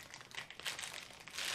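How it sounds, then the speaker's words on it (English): A plastic game controller package torn open by hand: a short burst of crinkling, crackling plastic with a rip near the end, close and fairly quiet, no talk. "That's an easy tear open package."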